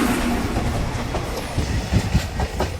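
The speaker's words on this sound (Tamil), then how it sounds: "இன்னைக்கு கூட 3வது ட்ரெயின் வருது." A train rolls past on railway tracks beside a new bridge, its wagons giving a steady, close clickety-clack with loud rumbling thuds throughout and no one speaking.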